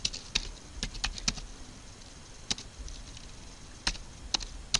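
Someone types a command on a computer keyboard, giving a handful of crisp, irregular keystroke clicks close up, separated by short pauses against a quiet room hiss.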